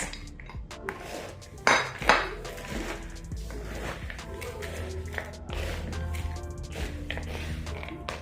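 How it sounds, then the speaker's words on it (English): Granola ingredients and nuts stirred together in a bowl, with repeated clinks and scrapes of a utensil against the dish, close and moderately loud, in a kitchen with some background hum. "Give them a stir, make sure everything mixes together well"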